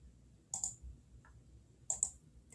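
Computer mouse clicks come in two quick pairs, crisp and close, against a quiet room hush.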